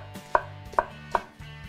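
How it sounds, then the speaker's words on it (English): A knife slices through a peeled onion on a cutting board in three crisp, evenly spaced chops followed by a softer fourth, close up and with no voices. "Peel and slice 1 onion."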